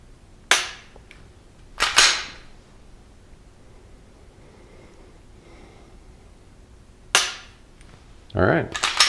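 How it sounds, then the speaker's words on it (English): Sharp, isolated clicks from trigger presses on a Glock pistol fitted with a Streamlight TLR-4G laser, a few separate snaps spread across a quiet stretch with soft breathing and handling noise between them. "So let's just try a trigger press."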